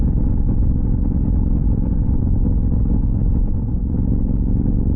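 Royal Enfield motorcycle riding along with a steady, loud low exhaust rumble that holds without a break, close and continuous, with no talking.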